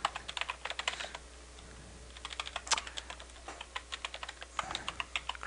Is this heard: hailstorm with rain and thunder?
no